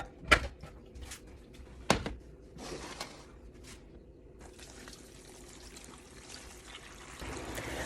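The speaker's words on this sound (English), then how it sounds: "fit all of that in there and then top it off with water" Water is poured into a full stock pot for homemade chicken stock, a faint trickling stream with a couple of sharp clinks at the start, then a steady soft pour growing slightly louder.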